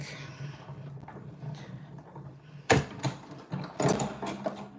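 Stampin' Up embossing folder cranked through a manual die-cutting machine, a short run of grinding, ratcheting mechanical clicks in two bursts over a low background hum, near and moderately loud.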